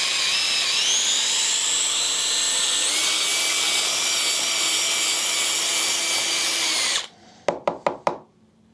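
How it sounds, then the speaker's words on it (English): A power drill whines steadily and loudly for several seconds clearing goo from a golf club, shifting pitch once, then stops, followed by a few sharp clicks or taps. "so we're gonna use a drill"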